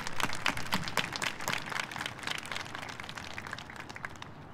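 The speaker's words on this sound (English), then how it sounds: "give your family and your friends and everyone in your life a round of applause" Community college graduation ceremony crowd giving a round of applause, dense and steady clapping from many people, strongest at the start and gradually thinning toward the end, with no talk.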